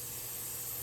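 Water spraying onto a stone patio during a paving job, a steady broadband hiss held at an even level for just under a second with no pauses.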